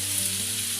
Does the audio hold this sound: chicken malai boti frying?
yes